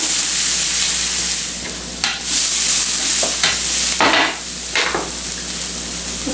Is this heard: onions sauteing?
yes